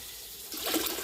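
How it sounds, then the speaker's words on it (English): Cold water pours in a short rushing splash that starts halfway through, loud and close, with no talking. "we have to put the cold water in."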